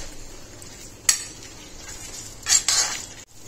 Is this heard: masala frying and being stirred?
yes